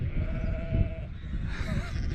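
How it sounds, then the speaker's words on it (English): Sheep bleat in the Lincolnshire countryside, with a couple of drawn-out calls carrying from a moderate distance over steady low outdoor rumble, and no talking. "All I can hear at the moment are sheep in the background"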